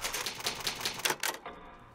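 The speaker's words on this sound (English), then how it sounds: "It's an old typewriter." An old typewriter's save sound in the Resident Evil HD video game: a rapid run of crisp, close mechanical key clacks for about a second and a half, then a fading ring-out, with no talking.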